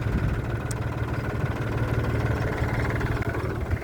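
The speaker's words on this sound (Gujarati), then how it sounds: "અધ વચ્ચે ઊભું રાખી દીધું ટ્રેક્ટર," A tractor engine idles, parked partway through a groundnut sowing job on a farm field, with a steady low rumbling throb that holds loud and even throughout, with no voices.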